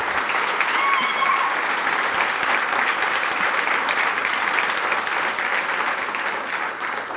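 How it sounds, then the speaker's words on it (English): A church congregation gives a big, warm round of applause to welcome a guest speaker, a thick and sustained roar of many clapping hands that stays loud and steady for over seven seconds. "That was a really big round of applause."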